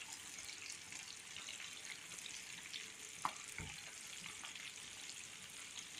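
Madagascan chicken nuggets frying in a pan over low heat, a soft continuous sizzle with a brief clatter and thump partway through, quiet and close, no voices.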